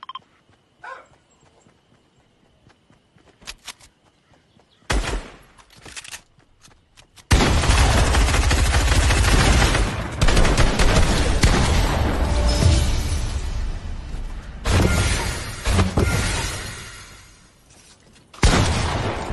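Gunfire erupts in a video game shootout: a few sparse shots first, then a long dense stretch of loud rapid firing and booms that tapers off before one last burst.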